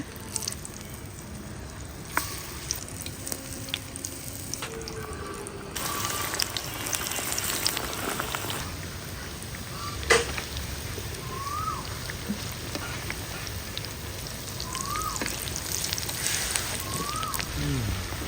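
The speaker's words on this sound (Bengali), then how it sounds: "টিকিয়া ভাজা হচ্ছে" Raw jackfruit kebab patties frying in oil, a steady sizzle with occasional clinks and knocks, while a person talks intermittently nearby and faint bird chirps sound in the background.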